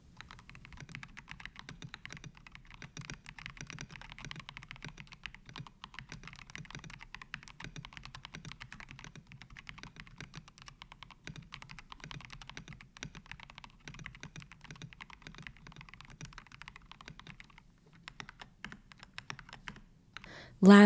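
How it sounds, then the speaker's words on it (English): Steady, continuous typing on a foam-dampened mechanical keyboard with Kailh switches and MDA keycaps, fairly quiet and close, with dense muted clacks running for about twenty seconds and a louder knock at the very end. "let's hear how amazing this keyboard sounds."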